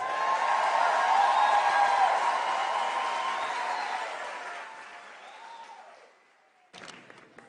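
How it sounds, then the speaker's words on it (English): A graduation ceremony audience applauds and cheers in a large hall, a broad roar that swells early, then gradually thins and dies away, followed by a brief burst of noise near the end. "give me a round of applause."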